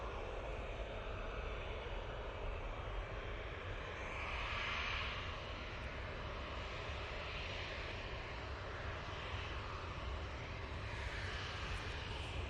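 A Ryanair airliner departing Manchester Airport for Riga gives a steady, broad jet roar that holds loud and even throughout, swelling slightly midway, with no voices.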